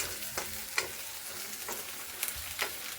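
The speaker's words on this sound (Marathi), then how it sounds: "जिरे कांदा लसूण आता बऱ्यापैकी तेलामध्ये भाजून घेत आहे" Cumin, onion and garlic sizzle in hot oil as a home-style okra dish is prepared, with a steady close frying hiss broken by several sharp scrapes and clatters of a stirring spoon in the pan.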